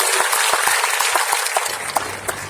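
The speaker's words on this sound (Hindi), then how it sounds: "हम सबको तालियां बजाकर उनका बधाई देनी चाहिए।" An audience at a government interaction event with village sarpanches claps in a short burst of applause, dense and fairly loud, with a low hum cutting out partway through as the clapping thins.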